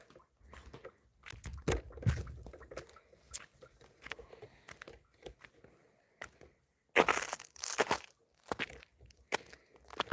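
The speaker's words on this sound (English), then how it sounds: "You can hear the snow crunching." Footsteps crunch through snow outdoors in winter, in uneven bursts of crisp crunches with short pauses, close and fairly loud.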